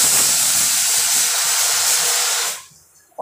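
A pressure cooker cooking cheap rice lets off a loud, continuous steam whistle, a sustained close hiss that cuts off abruptly near the end and falls to quiet.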